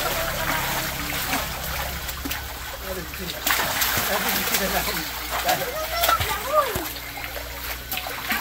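Water splashing and sloshing as a child swims in a provincial swimming spot, irregular splashes close by with children and adults chattering and calling out throughout.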